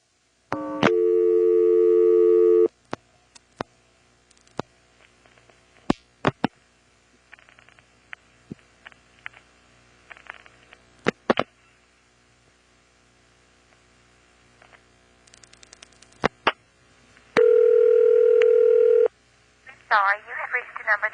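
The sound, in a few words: telephone trunk tones while flashing and dialing, NX1-E exchange 1977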